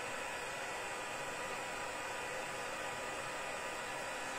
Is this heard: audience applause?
no